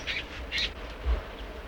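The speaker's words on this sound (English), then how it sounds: "Got a pair of cactus finches, got a couple of medium ground finches, large ground finch over there" Galapagos cactus finches and ground finches calling: two short, bright chirps in quick succession, fairly close, over soft outdoor background noise.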